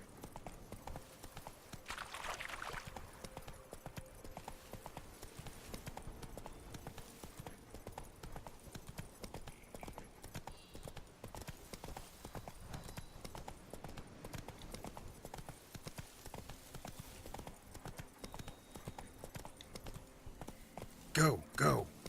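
Roach, the horse in The Witcher 3, galloping with quick, steady hoofbeats throughout, fairly faint under game ambience, with a brief louder effect near the end.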